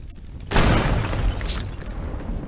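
A bomb goes off in the destruction game Teardown, a sudden loud blast about half a second in that rumbles and crackles with debris as it fades.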